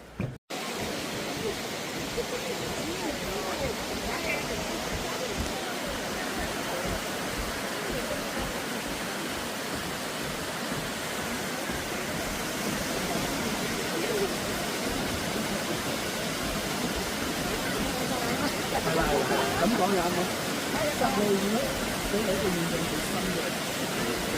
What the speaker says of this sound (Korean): 이곳이 진주탄 폭포입니다